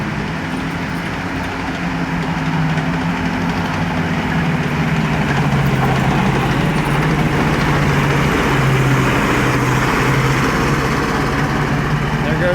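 Chaffee tanks rolling outdoors in a canyon-like area with echoing walls, a continuous loud rumble of clanking tracks over a low engine drone, steady throughout with no breaks.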